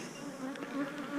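Bees hum at a nuc hive in a steady, close buzzing drone, several insects overlapping at a soft, even level with no voices.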